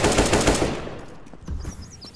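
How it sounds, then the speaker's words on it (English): An AK-47 fires in semi-automatic mode during a competitive Counter-Strike: Global Offensive match. A quick run of loud, close gunshots comes first, then the shots thin out into scattered reports and fading in-game background noise. "I'm firing semi-auto on an AK-47."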